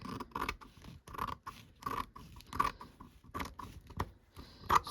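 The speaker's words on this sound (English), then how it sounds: "I get my scissors. I'm going to stand up this time and just cut across" Scissors snip repeatedly across embossed fabric, a series of close, crisp cutting strokes with short pauses between, no voices present.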